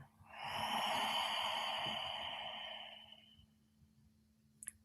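A slow, steady exhale of breath during a guided relaxation breathing exercise, a soft broad breathy rush that swells then tapers over about three seconds, close and alone, ending with a tiny click.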